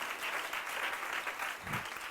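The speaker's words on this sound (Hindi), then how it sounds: "जोरदार तालियां प्रभु के लिए" A church congregation applauds during a sermon, giving a dense, steady roar of many hands clapping in a reverberant hall. It holds at an even level throughout, with no voices over it.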